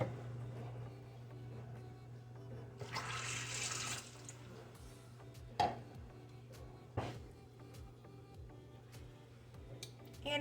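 Water pours in a short rushing burst into an Instant Pot for about a second, followed by a few sharp clinks and taps against the pot in a quiet kitchen with a steady low hum.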